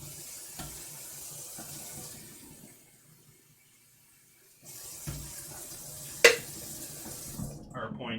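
Water from a kitchen tap runs into a pot, filling it for pasta, with a steady hiss that stops for a moment and then starts again. A couple of sharp clinks of metal cookware come near the end.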